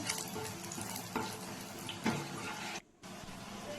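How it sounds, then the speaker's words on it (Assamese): Cloves, cardamom and cumin fry in two spoons of ghee in a karahi, giving a quiet, crackling sizzle with a few stirring bumps and a brief drop to near silence. "কেৰাহীটোত ঘিউ 2 চামুচ দি ইয়াত লং, ইলাচি আৰু জিৰা অলপ দি অলপ সময় ভাজি ল'ম"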